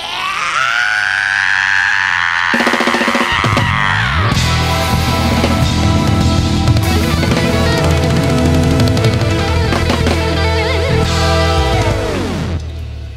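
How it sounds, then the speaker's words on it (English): A loud, sustained scream at a live band performance in a radio studio, rising over dense, driving rock music that fills the whole stretch and fades at the end. "Sometimes you just gotta scream."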